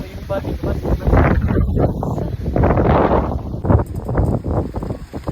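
Strong wind blasts in gusts across the microphone in Qatar, loud buffeting rumbles and roaring surges rising and falling, with a voice talking under the noise.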